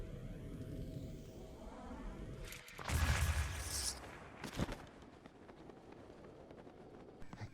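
A round remote bomb in Zelda: Breath of the Wild goes off with a single short, booming burst after a quiet stretch, followed by fainter rustling and footsteps.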